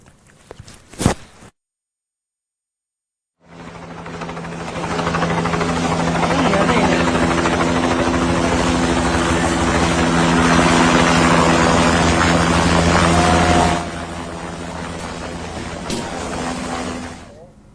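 A rescue helicopter during flood relief in Nepal or Bihar: loud, steady rotor and engine roar rises after a few brief knocks and a moment of silence, then holds close and continuous.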